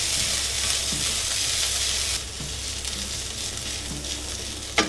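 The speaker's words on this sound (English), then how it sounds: "So I'm gonna put in my garlic, my dried chilies, and then I'm going to grate in my ginger. And just give this a good stir." Garlic, dried chilies and grated ginger sizzling in hot oil in a pan, stirred: a loud, dense, steady sizzle that suddenly drops to a quieter crackle partway through, with a few soft scrapes of stirring. No talk.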